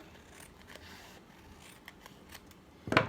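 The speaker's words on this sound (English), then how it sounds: "So I'm going to cut it up right here, and I'm going to cut out right here." Scissors cut paper for a mini envelope tag holder, faint light snips at first, then one loud close cutting stroke at the end, with no talk.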